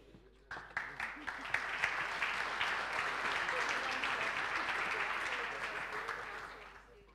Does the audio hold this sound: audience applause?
yes